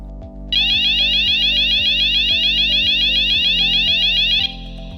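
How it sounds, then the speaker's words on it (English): An internal industrial fire alarm sounds loud and steady, a rapid warbling electronic tone that pulses continuously for several seconds, then cuts back to a lower hum. "The internal fire alarm will sound like this."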